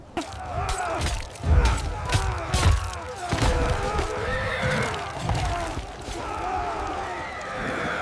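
Horses whinny and neigh repeatedly amid a chaotic, noisy battle scene from a war film, with thuds and clatter, fairly close and loud throughout.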